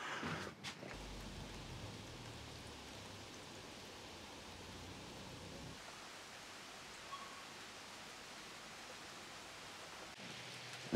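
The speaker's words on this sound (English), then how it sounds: "it's pouring down with rain, and all the chairs out there are now soaking wet" Heavy rain pouring down outdoors at a campsite, soaking folding camp chairs, a steady dense hiss that runs unbroken with a few soft knocks at the start and end.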